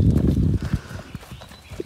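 A horse at a stable snorts and shifts, with soft irregular thuds and a short breathy snort, close by and fairly loud.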